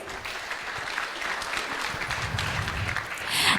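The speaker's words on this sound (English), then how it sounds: "So let's give them a round of applause." An audience at a Sunday love feast gives a round of applause, a sustained even patter of many hands that builds slightly louder toward the end.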